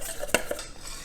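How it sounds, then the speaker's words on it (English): A utensil stirs redfish cake mixture in a bowl, giving a few quick scrapes and one sharp clink against the bowl, close and quiet with no talking. "Go ahead and mix that up real good."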